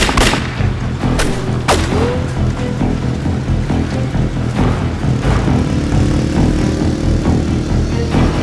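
Sharp gunshots crack out several times in quick, uneven bursts during a chase, loud and close, over a busy noisy background with engine-like rumble.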